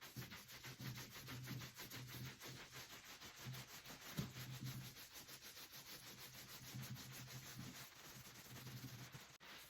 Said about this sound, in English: So as I roll it, I'm going to rub my hands across the entire project.